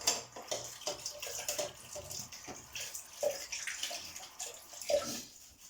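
Hands are washed under a running kitchen tap, a steady wash of splashing water with irregular surges and a few small clinks, fairly faint and close, with no talking.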